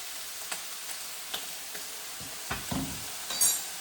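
A spoon stirs beef and tomato soup seasoned with soy sauce in a pot, making soft scraping strokes and light sizzling at a quiet level, with a few distinct clinks near the end.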